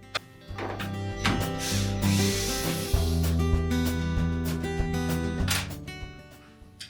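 Mounting screws come out of the water inlet valve on a Whirlpool washer. A close, buzzing tool whir rises and holds for several seconds, surrounded by small clicks and metallic handling sounds.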